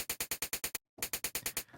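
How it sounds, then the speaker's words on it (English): Hi-hat loop synthesized from white noise and triggered by a step sequencer, a fast even run of short hissing ticks with a brief gap of silence midway, then resuming, bright and alone. "So it already sounds like a hi-hat loop, but it's a little bit boring."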